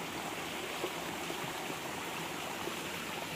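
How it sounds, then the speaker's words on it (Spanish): A river's strong current rushes in a steady, broadband wash of flowing water, constant and even in level throughout, with no voices and no other sounds. "Un sonido hermoso, la verdad. Viene con fuerza el agua."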